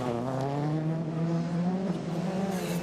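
A Hyundai WRC rally car on hard tyres at the 2014 Rally Portugal super special stage gives a sustained, loud engine drone with a rising and falling pitch, nearby and continuous with no voices.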